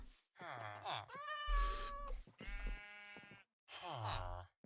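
A cat in a boat in Minecraft meows about four times, with drawn-out, whiny calls separated by short gaps, fairly close and clear.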